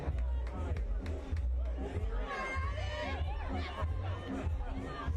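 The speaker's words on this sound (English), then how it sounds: "You could hear shouts from the crowd for Addie McCain's name" Stadium crowd at a women's soccer match between Fort Lauderdale United FC and Dallas Trinity FC shouts and chatters steadily, a dense wash of voices with rising calls through the middle.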